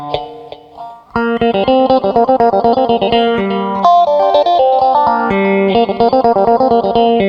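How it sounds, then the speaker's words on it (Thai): Electric guitar playing a quick picked melody through a swirling, sweeping phaser effect from a Zoom GFX-3 multi-effects unit, loud and continuous after a soft opening few notes. "ผมอยากให้ ลองสัมผัสเบิ่งเสียงเฟสเซอร์"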